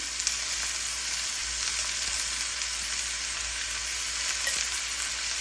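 Pumpkin pieces fry with turmeric and chili powder in hot oil, giving a constant close hiss of sizzling with a few faint stirring ticks, and no talking.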